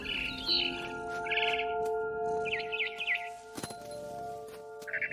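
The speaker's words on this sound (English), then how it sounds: "Then I heard chirping outside my window. It was a barn swallow going back to her nest." A barn swallow in What Remains of Edith Finch chirps outside a window in short, bright bursts of quick twittering over a steady, faint tonal hum, with a sharp click partway through.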